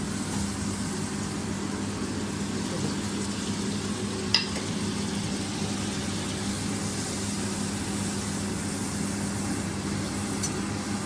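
Butter sizzles steadily in a hot kadai, a soft even crackle and hiss running the whole time with a faint tap midway, close and unaccompanied by talk.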